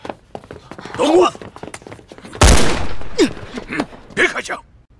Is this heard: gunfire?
yes